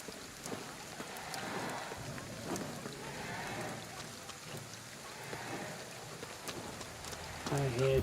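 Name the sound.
rain falling in video game Ghostwire: Tokyo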